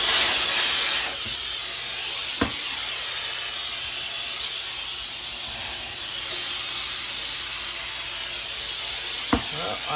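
Compressed air at 90 psi hisses steadily through a furnace duct in a continuous broadband rush, with a couple of sharp knocks from debris or the hose partway through.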